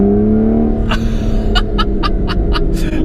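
Aston Martin Vanquish S Volante convertible with a V12 engine revving and accelerating, a loud, steady, full-bodied engine roar up close with a few sharp higher bursts layered on top.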